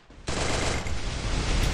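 Gunfire in a shooting video game: after a short quiet lead-in, a dense, loud burst of rapid automatic shots fills the rest of the moment.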